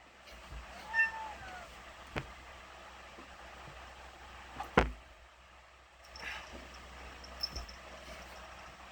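A house cat gives a short meow early on, followed by scattered knocks and small clicks in a quiet indoor room with faint background hiss.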